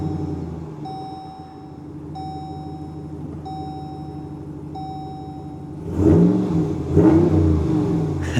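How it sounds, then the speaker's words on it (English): A 2026 RAM 1500 with a Hemi V8 and performance exhaust sits idling while a door chime dings repeatedly, then the engine is blipped twice in deep, loud revs. "I love that they put the performance exhaust on these things now."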